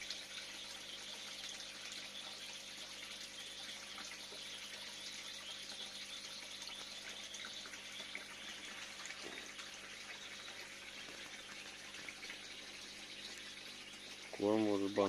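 Water flows and circulates steadily through an outdoor koi pond in the evening, a faint continuous rushing murmur that holds even throughout, with a brief louder disturbance at the very end.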